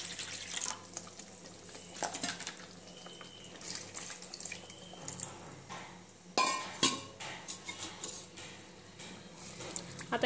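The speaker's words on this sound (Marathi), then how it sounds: "सोबत थोडंसं पाणी घालूया अजून" Water poured into a drumstick masala in a pan, a running splash with scattered clinks of utensils and pot knocks, close, with a sharp clatter partway through.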